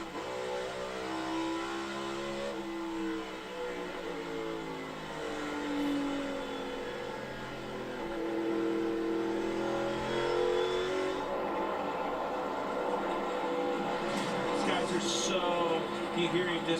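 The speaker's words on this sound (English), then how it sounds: "You hear him just so soft on that throttle pedal, getting onto the gas, waiting on it a long ways around the corner" A NASCAR Cup car at Richmond accelerates out of a corner, its engine note rising gradually in pitch as the throttle comes on. The sound is steady and mid-distance, with commentary continuing over it.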